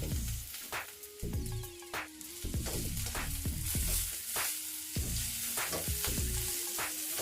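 Potatoes and curry leaves sizzle and fry in a pan for an aloo fried rice, a steady loud crackle with repeated clatter of a spoon or spatula stirring against the pan.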